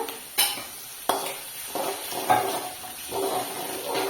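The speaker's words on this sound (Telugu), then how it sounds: "ఆనియన్స్ అయితే మంచిగా ఫ్రై అవ్వాలి" Onions frying in a home kitchen pan, with clanks of a spoon against the metal at intervals over a steady low sizzle and occasional stirring scrapes, close and moderately loud.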